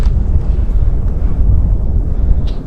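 Strong wind buffeting the microphone on top of a small bluff beside Shell Lake in Merriman Precinct, Nebraska: a loud, continuous low rumble with gusty fluctuations throughout, no voices.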